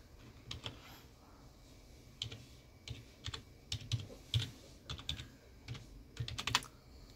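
Irregular, quiet keystrokes on a computer keyboard as a password is typed at a Hyper-V virtual machine log-on screen, with short clusters of clicks separated by small gaps and no voice.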